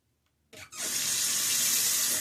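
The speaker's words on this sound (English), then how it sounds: "Along with a good watering." Water pours steadily and close by as transplanted plants in larger containers get a good watering, starting abruptly with a brief splash and then a continuous hissing stream, with no talk.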